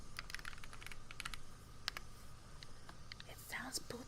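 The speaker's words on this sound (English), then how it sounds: "I do like the sound of my keyboard though" Fingers clatter over a computer keyboard in quick bursts of clicky keystrokes, close and soft, with a quiet murmuring voice near the end.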